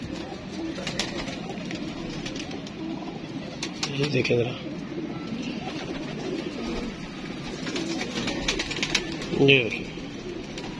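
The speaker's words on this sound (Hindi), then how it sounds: "नया कबूतर इसका मैं शौक करवाता हूँ आपको काला जीरा कबूतर है" Black cumin pigeons coo softly in a loft, low murmuring calls with a couple of louder coos and faint wing flutters, while someone talks nearby over them.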